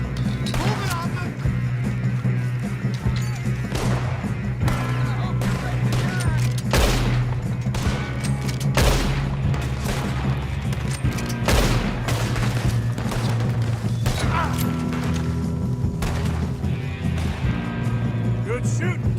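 Rapid gunfire in a Red Dead Redemption shootout, repeated sharp cracks and booming shots at irregular intervals over a steady low drone, with voices calling out between shots.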